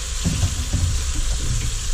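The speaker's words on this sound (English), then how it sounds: "putting just a little small splash of water in there, about that much" A small splash of water poured into an Instant Pot with onions and mushrooms, a short hissing wash of liquid over a continuous noisy background, close and fairly loud, with no voices.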